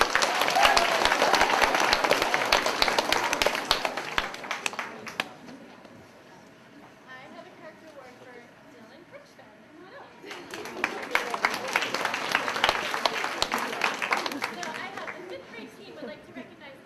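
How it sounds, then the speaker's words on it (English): Two bursts of dense clapping from an audience at a middle school character awards assembly, separated by a few seconds of quieter murmuring, the applause fading at the end of each wave. "Please give us a round of applause."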